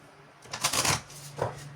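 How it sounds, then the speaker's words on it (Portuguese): A deck of tarot cards is shuffled by hand, a crisp riffling burst lasting about half a second followed by a shorter second riffle, close and clear in a quiet room. "Baralhar mais um pouquinho."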